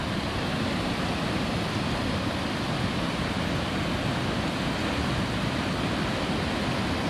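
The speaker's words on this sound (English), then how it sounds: "It's got some nice little rapids here." Small river rapids along the Lime Kiln Trail rush and churn in a continuous, even, full-bodied roar close by, with no voices.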